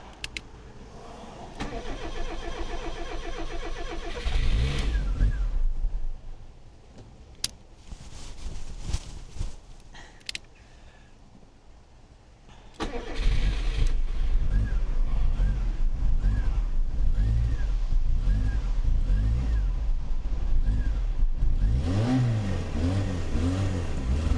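A carburetted Rover Metro engine cranks and catches, revving in uneven bursts before dropping off, then starts again and settles into a loud, steady running note close by.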